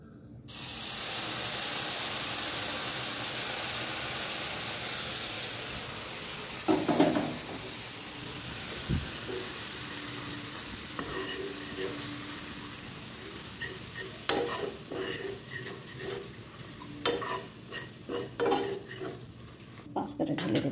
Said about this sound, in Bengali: এটাতে এবার দুধ দেব অল্প।